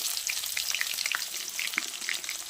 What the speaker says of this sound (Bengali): দিলাম তাতে গোটা জিরে, তেজপাতা, পেঁয়াজ কুচি,